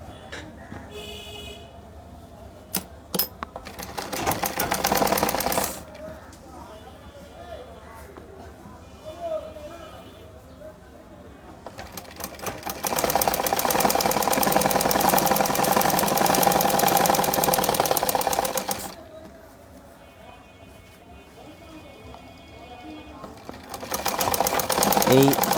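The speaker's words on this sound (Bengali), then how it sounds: "ধরে এখান থেকে সেলাই করব।" An electric sewing machine stitches a salwar seam in bursts: a short run early on, a long steady whirring stretch in the middle and another at the end, with someone speaking in Bengali during the pauses.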